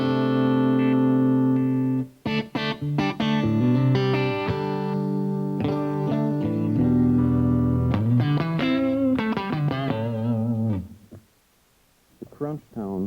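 Stratocaster electric guitar playing a sequence of clean, sustained chords and single notes with a ringing tone, loud and close, stopping briefly near the end before a few more picked notes.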